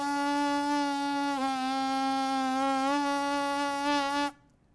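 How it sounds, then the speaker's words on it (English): A brass player's buzzing lips produce a reedy, nasal tone held close and loud, dipping briefly in pitch and returning to the starting note, then stopping abruptly. "see if you can get the buzzing to change the pitch"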